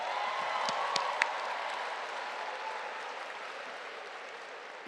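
Audience at a Cass Tech class of 2021 graduation ceremony applauding for Big Gretch, a steady wash of clapping from a large crowd with a few sharper nearby claps, fading slightly toward the end.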